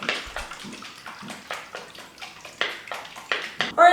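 Greek dressing shaken in a glass jar, a rapid run of close sloshing liquid bursts in quick rhythm that grows louder toward the end, with no talk.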